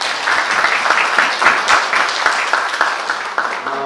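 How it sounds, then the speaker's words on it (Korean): An audience at a Korean education-program talk breaks into steady, fairly loud applause, many hands clapping in a dense, even patter for several seconds. "박수를 좀 쳐주셨으면"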